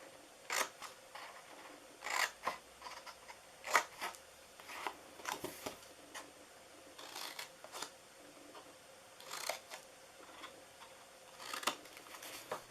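Scissors snip through paper box pieces for a Christmas snow bear treat box, producing a quiet, close series of short crisp cuts at an irregular rhythm with small pauses between them.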